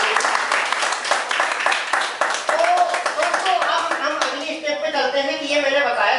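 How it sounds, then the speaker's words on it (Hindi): Loud applause breaks out at a business meeting, a dense clatter of many hands lasting several seconds, with a voice speaking over it toward the end. "तो जोरदार तालियां"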